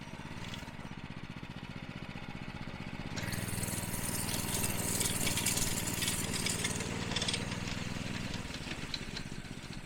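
A revived old minibike engine running, its small motor chugging at a steady idle and then revving up to a louder, busier drone that holds for several seconds, close by.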